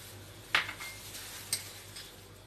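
Ice cubes drop into a jar of yogurt while making lassi, giving two sharp glassy clinks about a second apart over a quiet kitchen hum, with no one speaking.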